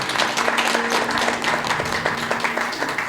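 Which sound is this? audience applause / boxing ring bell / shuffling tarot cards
audience applause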